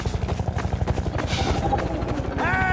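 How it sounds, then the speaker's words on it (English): Rapid, steady rotor thumping from a helicopter in Half-Life 2: Episode Two, loud and close, with a rising mechanical whine near the end and faint other game sounds beneath. "Since you brought that chopper in on your tail"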